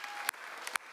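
A church audience applauds to welcome a group of ninth graders, a brief burst of dense clapping with a couple of sharper peaks, fairly loud and continuous across the second.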